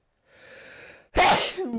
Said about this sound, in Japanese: くしゃみ出ます